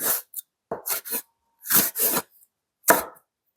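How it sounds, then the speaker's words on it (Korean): Knife slicing red chili peppers on a cutting board, several separate chopping strokes with short pauses between them, close and fairly clear, with no talking. "자, 홍고추 한번 썰어볼게요"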